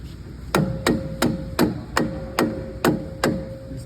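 A hammer pounds on a car's wheel assembly while a CV axle is being removed, eight sharp ringing strikes in a steady rhythm, close and loud, with no voices.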